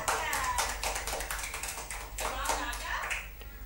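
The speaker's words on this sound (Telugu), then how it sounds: "వరుణ్ కి క్లాప్స్ కొడదాం కదా" Small children in a preschool class clapping for a classmate, quick uneven claps and taps coming in bursts, close by, with voices mixed in among the hand sounds.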